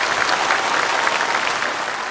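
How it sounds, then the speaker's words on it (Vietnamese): An audience at a Buddhist Buddha-bathing ceremony at a rural temple in Long An breaks into loud, dense applause that stays full and steady throughout. "Xin tất cả quý vị cho một tràng pháo tay cung thỉnh với Ngài,"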